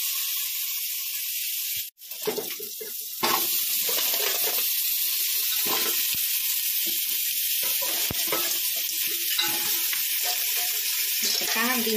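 Onions frying in a pan give a steady, close sizzle for most of the stretch, with a short drop near the start and light stirring crackles over it.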